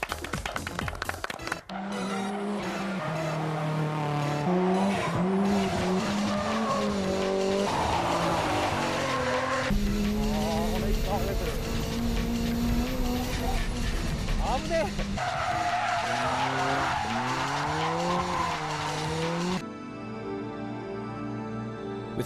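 An Amuse S2000 race car is driven hard, with its engine revving continuously and tires squealing through repeated skids, loud and up close throughout.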